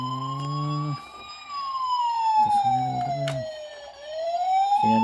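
A toy fire truck's electronic siren wails loudly and continuously, sweeping slowly down and back up, with brief bursts of another tone breaking in and a faint voice in the background.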